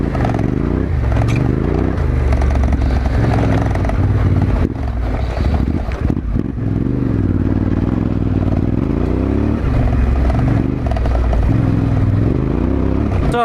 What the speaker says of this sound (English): Now we're going to get this T7 up here into the mountains.